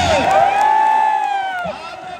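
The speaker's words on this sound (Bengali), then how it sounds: "তারা একটা হাততালি দেবে।" A crowd at a women's football match cheers for Sirajganj, with loud shouts and drawn-out whoops rising together close by, then tapering into scattered calls.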